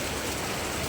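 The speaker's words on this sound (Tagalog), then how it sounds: "natrap po tayo ng malalakas na ulan dito sa ating dadahanan" Heavy rain pours on a flooded road in the Philippines, a dense, steady roar of water that fills the moment without any voices.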